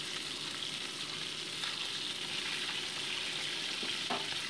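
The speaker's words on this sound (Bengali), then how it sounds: "এবার সেকেন্ড ব্যাচের মাছগুলোকে যথাক্রমে আমি ভেজে নিচ্ছি" Pieces of bhola fish sizzle steadily in hot oil, a second batch being fried for a spicy potato-and-eggplant curry, with a continuous dense crackle and a couple of brief louder spatters near the end.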